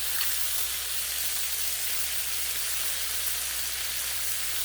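Bacon sizzles steadily on a Blackstone griddle over low heat, a continuous, even crackling hiss that is close and uninterrupted throughout, with no voices.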